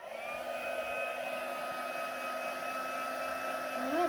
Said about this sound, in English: before we turn on our noisy heat machine tool, heat tool